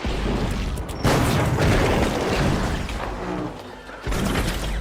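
An explosive detonates in a video game with heavy booming crashes, a sudden loud blast near the one-second mark, a sustained rumble, and another hit near the end.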